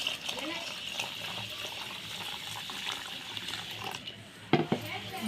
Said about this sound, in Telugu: ఇవి గిన్నెలో పోసుకొని ఇవి నీళ్ళు పోసి కడిగి పెట్టుకోవాలి